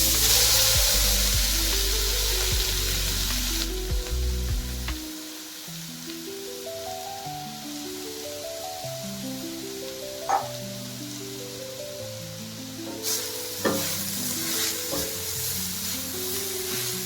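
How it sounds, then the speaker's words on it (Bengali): Grated carrots fry in ghee with a gentle crackling sizzle over a faint rhythmic background, after a loud rush of noise in the opening seconds, with occasional stirring clinks. "দেওয়ার পর আমি গাজরগুলো ঘিয়ের উপর নেড়ে নেব।"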